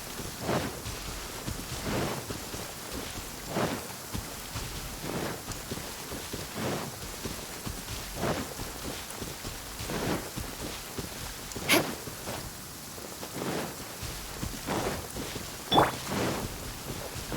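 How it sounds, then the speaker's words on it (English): A heavy downpour hisses steadily in Genshin Impact, with soft rumbling bursts at a regular pace that could be thunder or footsteps under the rain, one sharper crack near the end. "Taking a stroll in the middle of a downpour certainly rouses the spirit."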